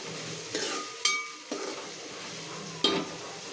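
Onions and green chillies fry in hot oil in a pan with a soft, steady sizzle, broken by several sharp scrapes and clinks of a spatula stirring, all close by with no talking.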